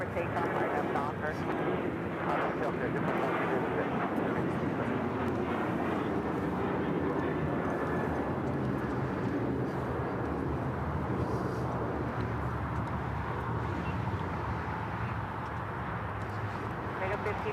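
An airliner takes off from runway 25 right at LAX, its engines a steady broadband roar holding throughout, with radio chatter from air traffic control heard over it.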